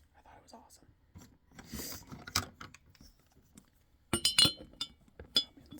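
Glass jars clink and tap against each other in a few sharp bursts, close and fairly loud, with soft talking in between.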